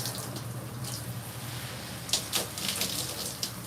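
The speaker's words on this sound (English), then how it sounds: "And now I'm going to rinse." Tap water runs steadily into a sink while hair dye, Revlon ColorSilk 48 burgundy box dye, is rinsed out, a constant hiss with a few louder splashes near the end.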